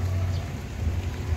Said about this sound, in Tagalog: Ulan dito sa amin yun. Kasi nga may bagyo.